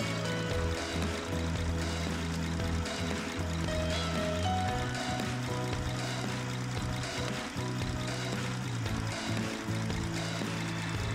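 A Mercedes diesel engine that loses power on uphill roads runs at a steady idle while one fuel injection pump is tested, giving a continuous close, even drone with no talking.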